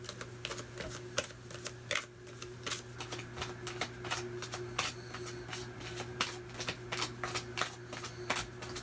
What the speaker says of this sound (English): Whenever it takes a while to shuffle a deck,